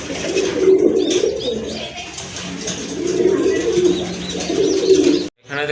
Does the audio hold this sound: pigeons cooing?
yes